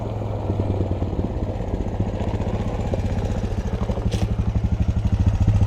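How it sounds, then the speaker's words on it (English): A four-wheeler ATV engine runs on a small family farm, a steady throbbing rumble with fast regular pulses that holds close and loud for the whole stretch, with no talk. "They love to ride the four-wheeler."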